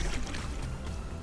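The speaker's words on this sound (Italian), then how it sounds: "in fondo c'è il rumore di rapide." Distant river rapids on the Ticino, heard from an inflatable kayak, come through as a steady broadband rush of water with no breaks and no one talking.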